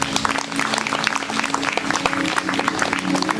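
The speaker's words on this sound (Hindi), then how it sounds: "ताली बजाएं इनके जीवन के लिए।" Church congregation clapping during a Hindi sermon, a dense, steady patter of many hands close by with a low hum underneath.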